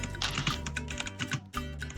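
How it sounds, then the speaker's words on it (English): Rapid typing on a computer keyboard, a close, fairly quiet stream of irregular key clacks with brief pauses, heard alone without speech. "Who the fuck is typing an essay, dude?"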